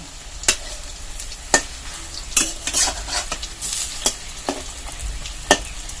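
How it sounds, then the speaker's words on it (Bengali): Egg fritters (bora) fry in oil in a pan while being turned, giving a steady sizzle broken by sharp clinks and scrapes of a utensil against the pan. "বড়াগুলোকে উল্টে দিয়ে দিয়ে ভেজে নিব।"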